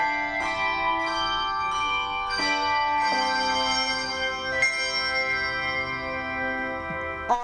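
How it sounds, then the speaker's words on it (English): A school handbell choir plays in a music class, with ringing bell tones that strike one after another and overlap as they sustain and decay over steady resonance, and no talking. "students here are taking part of the school bell choir"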